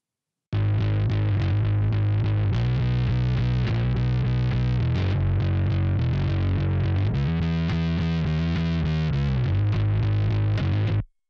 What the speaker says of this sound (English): I have two specific types of distortion that I'm adding to my original bass tone